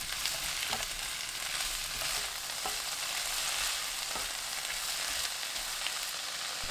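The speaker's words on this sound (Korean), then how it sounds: "팬에 양배추, 올리브유 2큰술, 다진 마늘 반큰술, 새우젓 1큰술 넣고 센 불로 3분 볶습니다" Cabbage with olive oil, minced garlic and salted shrimp stir-fries in a pan over high heat, giving a steady loud sizzle with occasional scraping stir strokes and no talking.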